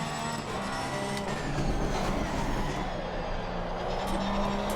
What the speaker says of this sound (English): Accelerating in second gear.